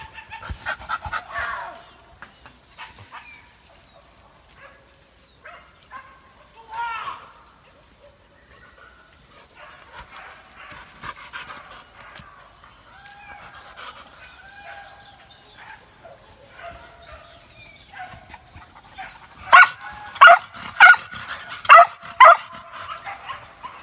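A dog pants in quick bursts and whimpers at close range during a hunt, then lets out a series of five loud, evenly spaced barks near the end, with faint rooster-like calls and rustling in the background.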